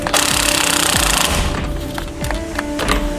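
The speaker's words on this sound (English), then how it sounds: "this is going to be my first attempt at taking this bolt off" A battery impact wrench hammers at the steering wheel bolt on a 1998–2002 Chevrolet C1500, a loud rapid rattling burst that fades into weaker, sputtering bursts from a low battery.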